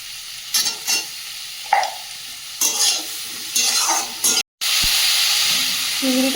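Food seasoned with turmeric and salt sizzles in a hot pan while a utensil scrapes and stirs it in short bursts, then a loud steady hiss takes over near the end.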